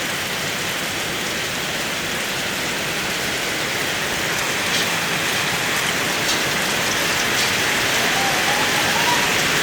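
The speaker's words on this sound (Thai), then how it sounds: "ฝนตกนักกระหม่ำลงมากเลยบ่านี้" Heavy rain pouring steadily, a dense unbroken hiss of drops drumming on surfaces, loud and constant throughout with no voices.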